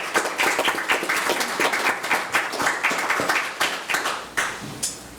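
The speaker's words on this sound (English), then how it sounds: "let's give her a round of applause" A room at a board of education meeting bursts into applause, many hands clapping together in a steady rhythm for several seconds before the clapping begins to thin out.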